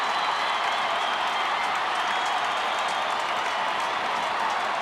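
A large football crowd at an AFL match between Adelaide and Carlton roars and applauds steadily for a goal kicked by an opposition player, a dense sustained wash of cheering with no pause.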